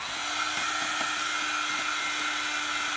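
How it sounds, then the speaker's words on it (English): A heat gun blows steadily as it dries a paper craft page, a continuous close whirring hiss with a faint tonal whine that holds level throughout, no talking. "Use the heat gun, I mean."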